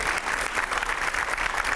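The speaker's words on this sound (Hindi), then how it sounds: "जोरदार तालियों से स्वागत करिए" A studio audience applauds warmly as a former Madhya Pradesh chief minister is welcomed onstage, a brief burst of dense, steady clapping.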